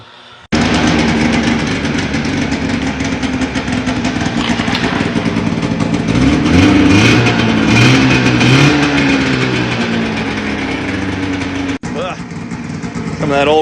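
An 1980 John Deere Liquifire snowmobile engine just after a carburetor clean, running loud and near with rough two-stroke idling and rising revs, briefly cutting out before picking up again, with someone talking over it.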